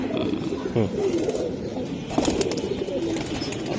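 Pigeons coo in low, rolling bursts among a flock of giribaz birds for sale, including a black-necked hen and Fitki-bred pigeons, while someone talks over them nearby.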